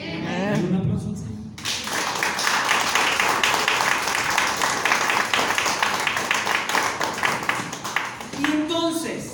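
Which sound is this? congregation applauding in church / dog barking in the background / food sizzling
congregation applauding in church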